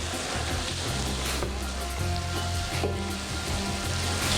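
Sliced carrots sizzle steadily in a frying pan over raised heat for an Indian-style vegan carrot halwa with coconut, a continuous crackling hiss with occasional soft stirring knocks and no talk.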